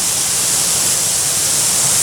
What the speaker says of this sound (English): These are 15/2 fixed nozzles, not the adjustable nozzle.